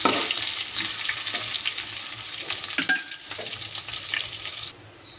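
Ajwain, cumin and fenugreek powder fry in a hot pan with a steady broadband sizzle and occasional stirring scrapes, close and fairly loud, fading to a quieter tail near the end.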